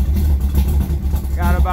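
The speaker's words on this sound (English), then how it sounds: "We're idling around 700-800." A carbureted car engine running on E85 idles at around 700-800 rpm, a steady low rumble that stays fairly loud and even, with a brief tonal whine near the end.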